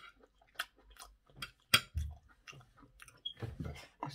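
Someone chews a mouthful of rice and chicken close to the mic, with wet, irregular bites and smacks, one sharper crunch and short pauses, and no talking.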